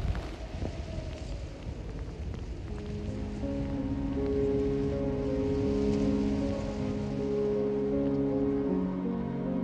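Cold rain mixed with sleet falls steadily on surfaces around a small mountain farming hamlet in Japan, a continuous close patter that swells slightly partway through, without any talking.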